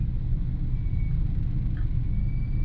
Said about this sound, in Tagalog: Traffic pa naman dito sa Susano na to. One lane lang.